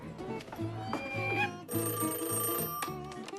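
A telephone bell rings in repeated bursts, loud and close, with no talk over it.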